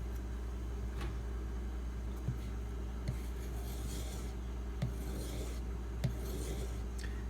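Steel knife blade rasping across Kyoto 150 and Pride 1k whetstones, a steady close gritty scrape with a few sharp clicks as strokes end, over a constant low hum.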